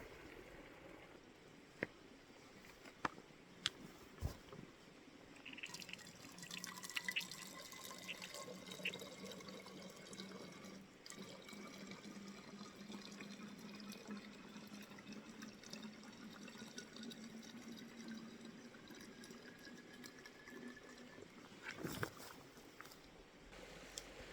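Water squeezed from a bag into bottles trickles and gurgles softly for a long stretch, with faint clicks and light knocks, quiet and close, no talking.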